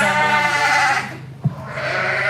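Sheep bleating at a junior livestock show for sheep and goats, a harmonic bleat that rises, breaks off briefly, then resumes close and loud.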